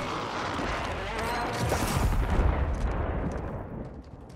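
Airstrike explosions on Rebirth Island in Call of Duty Warzone: a heavy, rumbling barrage of blasts and gunfire that swells loud, then fades, with voices talking.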